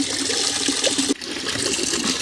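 Water splashes and sloshes continuously as a child plays in a small pond, a close, steady wet churning with one brief dip partway through.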